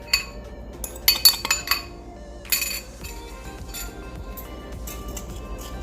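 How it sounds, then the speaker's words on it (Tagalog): A utensil clinks and taps against a bowl while eggs are mixed with brown and white sugar for banana almond muffins, a few quick bright clatters in bursts at the start and midway, then quieter scraping. "Mix lang muna po natin to ng mabuti."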